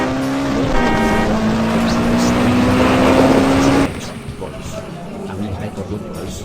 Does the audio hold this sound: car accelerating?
yes